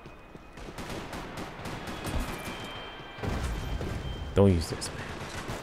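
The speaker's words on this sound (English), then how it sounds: "Don't use this gun." Gun fire in the Max Payne 3 multiplayer game, bursts of shots scattered through the clip behind someone talking, with a louder burst near the end.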